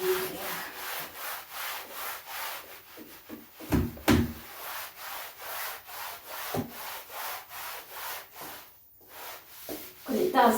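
Flash mop scrubbing a floor, rhythmic back-and-forth rubbing strokes at close range with a few sharper knocks, no talking.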